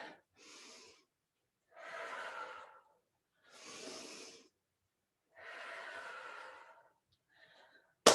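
Deep, slow breaths taken during a total-body strength workout: four long, even inhale-exhale swells with quiet gaps between, fairly close and soft, ending in a brief sharp sound.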